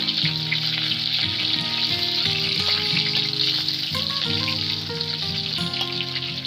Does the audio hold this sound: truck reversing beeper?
no